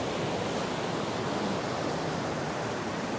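Ocean waves on the California coast, a steady dense wash of surf filling the whole clip, loud and continuous without distinct breaks or voices.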